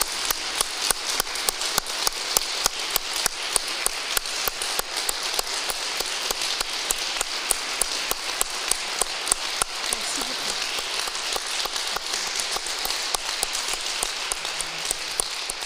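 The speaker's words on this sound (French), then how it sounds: "je voudrais qu'on applaudisse chaleureusement Michaël Jean." An audience applauding Michaëlle Jean at a Francophonie event, long dense sustained clapping from a large crowd, steady and fairly even throughout with no speech.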